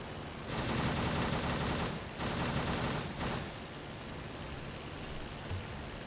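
Aircraft machine guns rattle in the flight game Rise of Flight, two or three dense bursts over a roaring engine drone, the last burst short, then only the engine remains.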